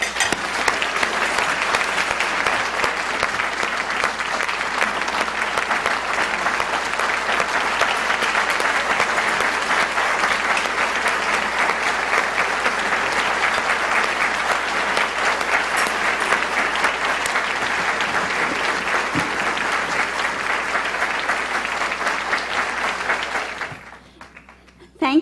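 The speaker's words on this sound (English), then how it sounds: "Please join me in giving a round of applause that my mother deserves" A large audience at an Eagle Forum event breaks into sustained, loud applause for Carol Paul, the dense clapping holding steady for over twenty seconds before tapering off abruptly near the end.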